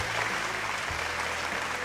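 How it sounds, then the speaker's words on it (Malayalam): A studio audience at a family game show claps together in sustained applause, a dense steady patter of many hands at moderate distance, with no talking over it. "ഒരു നല്ല കൈയടി വരട്ടെ"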